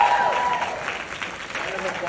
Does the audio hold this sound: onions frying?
no